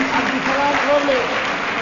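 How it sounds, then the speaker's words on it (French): An audience applauds graduates at a ceremony in Djibouti launching a digital convergence initiative, a brief, even roll of clapping heard beneath a person speaking. "je pense que vous pouvez les applaudir"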